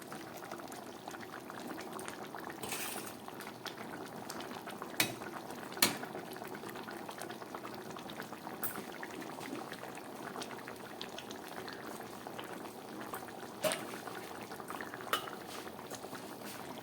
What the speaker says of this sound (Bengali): পুরোপুরি ফুটে উঠেছে।